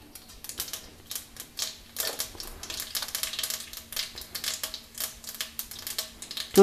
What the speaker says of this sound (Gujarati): અડધી ચમચી જીરું નાખીશું